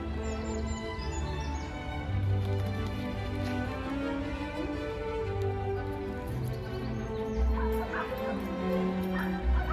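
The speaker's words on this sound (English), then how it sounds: "This dog just attacked me." A dog yips, whimpers and barks in short excited bursts nearby, its cries overlapping with other voices and bustling background sound.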